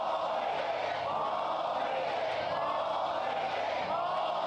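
A college baseball stadium crowd at a Texas A&M versus South Carolina game makes a constant loud roar, a dense wash of cheering and yelling that never lets up.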